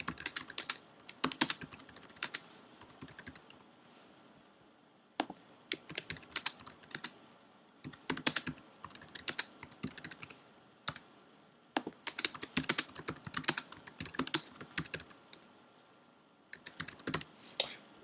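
Quiet typing on a computer keyboard, irregular runs of close, light key clicks with short pauses between bursts.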